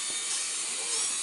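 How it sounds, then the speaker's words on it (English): Drill boring into pallet wood while building a bird feeder, a steady high-pitched whine running continuously and fairly loud for the whole moment, with no voices over it. "We're drilling for the sides."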